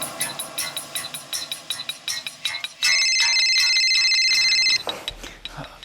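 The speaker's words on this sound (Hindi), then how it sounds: "रिंग जा रही है" A mobile phone ringing during a call in a Maharashtra crime drama scene: repeated short electronic ring pulses, then a sustained steady tone, followed by rustling and handling noise near the end.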